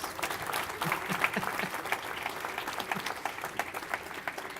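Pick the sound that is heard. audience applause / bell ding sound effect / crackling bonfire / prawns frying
audience applause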